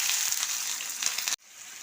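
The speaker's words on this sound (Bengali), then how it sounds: "পেঁয়াজটা হালকা করে ভাজা হয়েছে" Onions fry in oil with cardamom, cinnamon and cloves for a chicken butter masala, giving a bright, steady sizzle. The sizzle cuts off abruptly near the end, then returns much fainter.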